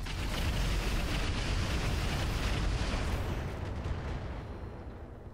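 Mech weapons firing in the Roguetech mod of BattleTech, a loud sustained roar of explosive salvos filling the whole clip, holding steady before fading slightly toward the end, with no talk over it.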